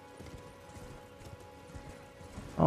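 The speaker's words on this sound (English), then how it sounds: "Forgot how to ride the horse after I was just riding him." Horse hooves clip-clop in a video game while the horse is being ridden, a steady rhythmic clatter at moderate loudness. A drone of background music sits underneath, and nobody speaks.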